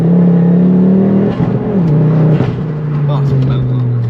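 A Revo Stage 4 tuned Ford Focus ST mk2 of about 400 bhp pulls hard under acceleration, its engine drone loud and steady from inside the cabin, shifting pitch partway through, with voices talking over it.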